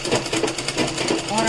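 A sewing machine stitches a sleeve onto a kurti, giving a steady, rapid mechanical rattle for the whole moment, close and fairly loud, while someone talks over it.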